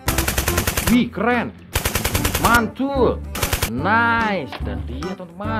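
Rapid bursts of a toy M416 assault rifle rattling in quick strings, loud and close, broken by short pauses while someone talks excitedly between bursts.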